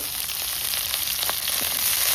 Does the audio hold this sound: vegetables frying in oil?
yes